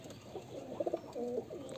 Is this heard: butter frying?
no